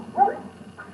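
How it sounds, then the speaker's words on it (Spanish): A dog gives a short, agitated whimpering yelp, close by and moderately loud, over a steady low background hum, with a fainter second whine shortly after. "es que los perros están rebotados"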